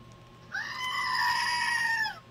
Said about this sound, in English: I think we need a goat screaming.